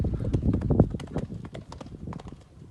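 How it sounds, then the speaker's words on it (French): Horse hooves clip-clopping over a line of four gymnastics jumps during a show-jumping training exercise, a steady series of close, distinct hoof strikes at a measured rhythm with no talk. "C'est une ligne où le cheval doit vraiment prendre le temps de faire chaque saut, pas se précipiter, vraiment décomposer chaque saut"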